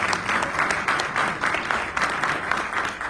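An audience applauding at a ceremony dedicating an Ohio historical marker for CompuServe, steady clapping throughout with no talk over it.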